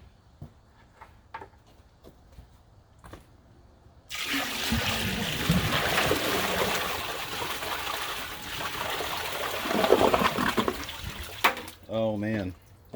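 A bucket of water is dumped into an American Standard or Kohler toilet bowl for a flush test, producing a loud sustained rush and gurgle for several seconds after faint handling sounds, with a brief voice near the end.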